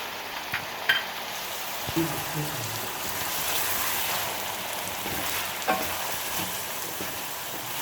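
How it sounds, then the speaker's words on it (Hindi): Tomatoes and green chillies frying in a pan for bhindi gosht, with a continuous sizzle and a few scraping stir clicks from a utensil, steady and close. "अब हम 5 मिनट के लिए इन्हें फ्राई कर लेंगे अच्छी तरह।"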